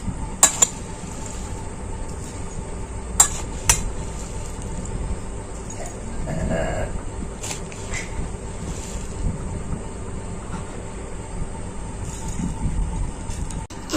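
Jhalmuri, spiced puffed rice, is served out into bowls with a few sharp clinks of utensils against dishes near the start and again around the third second, over a steady rumbling background with no talking.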